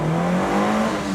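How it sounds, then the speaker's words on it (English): Turbocharged all-wheel-drive Toyota Caldina with 71,000 km accelerating hard, a steady loud engine drone climbing slightly in pitch, heard from inside the car with no talking. "This car's too fast."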